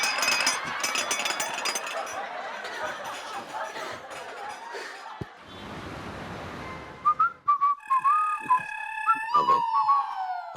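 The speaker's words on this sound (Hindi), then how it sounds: "अभी से सीटी मारने लग गया" A person whistles a melodic tune in a series of sliding, warbling notes, emerging after a stretch of muffled background music and noise, loud and close near the end.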